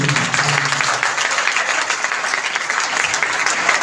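A church congregation applauds steadily throughout, a dense, even wash of many hands clapping at close range, with a faint voice at the very start.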